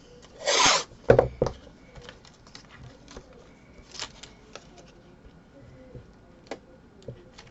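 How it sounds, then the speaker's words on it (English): Craft paper pressed and rubbed flat onto a handmade album with a burnishing tool: a few close, sharp scuffs and rubs at the start, then quieter scattered taps and light rubbing. "Burnish it down."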